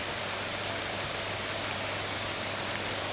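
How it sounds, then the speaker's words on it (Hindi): Light rain falling with cold winds in Jaipur, heard as a dense, even hiss that stays constant and fairly loud throughout, with no voices. "सर्द हवाओं के साथ हल्की बारिश होने लगी है"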